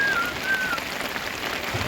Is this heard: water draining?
no